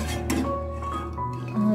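Soft clinks and scrapes of a utensil stirring cassava with coconut milk sauce and pandan leaves inside a cooking pot, close by and fairly quiet, with no talking.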